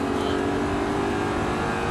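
An Audi R8 sports car's engine roars steadily at high revs on a race track, a loud continuous drone close by with no break.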